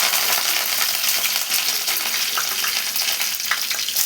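Curry leaves crackle and sizzle in hot oil with cumin and mustard seeds, a dense close frying hiss with a few sharp pops, loud and steady, no talking.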